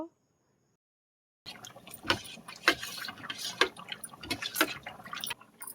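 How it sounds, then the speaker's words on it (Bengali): Spoon stirring powdered milk into hot water in a cup, giving a string of sharp clinks and taps with liquid swishing between them, close and fairly quiet after a brief silence. "এটা গরম জলে দিয়ে ভালো করে চামচ দিয়ে এটা গুলে নেব"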